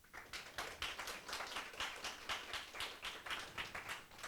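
Applause and cheering from an audience at the opening of the first Sharing Idea Contest at the Gwangsan Sharing Center in Gwangju, Korea: steady, dense clapping, fairly quiet and distant, with rhythmic bursts throughout.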